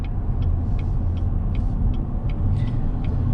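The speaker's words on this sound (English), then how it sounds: "driving this GMC Sierra Elevation with the preferred and off-road package" A steady low road rumble and engine drone fills the cabin of a 2021 GMC Sierra 1500 Elevation pickup with off-road package while driving, with faint rhythmic clicking ticks repeating over the hum.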